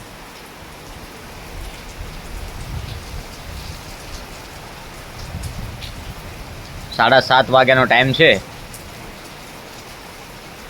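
Heavy rain pours over a rural village in Deodar taluka, Gujarat, in the evening, a steady close wash of hiss throughout, with a voice briefly speaking near the end.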